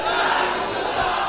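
A large crowd chants a religious slogan in unison in response during a sermon, a dense, steady roar of many voices that holds at an even level for the whole moment.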